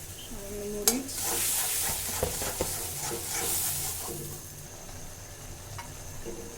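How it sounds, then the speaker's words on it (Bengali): Ginger, garlic and ground spices such as cumin, turmeric, coriander and chili sizzle in hot oil in a pan while being stirred, a steady close hiss with occasional scrapes and a sharp clink near the start. "ভালো করে কষিয়ে নেব"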